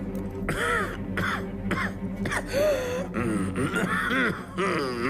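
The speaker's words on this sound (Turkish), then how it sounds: "Bu ciddi bir öksürük." A man coughs and clears his throat repeatedly in harsh, rasping bursts, mixed with groaning vocal sounds, close and fairly loud, in the video game Red Dead Redemption 2 with Turkish dubbing; the character has tuberculosis.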